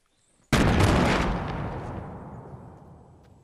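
One sudden, loud gunshot boom in the video game Fortnite bursts out after a moment of quiet, then rumbles and fades slowly over a few seconds.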